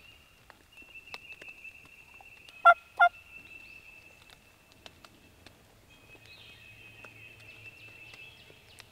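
Two quick, loud gobbles from a wild eastern turkey ring out over quiet outdoor background with a steady high insect-like drone and faint scattered calls.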